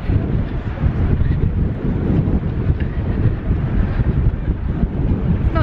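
Strong wind in Copenhagen buffets the microphone, giving a steady, loud, low rumble that holds without a break, with no talking.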